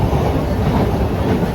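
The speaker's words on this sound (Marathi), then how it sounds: "ट्रेन आले आता." A train rolls into a crowded suburban railway station, a steady loud low rumble of wheels and carriages with clattering rail noise filling the whole moment, no voices.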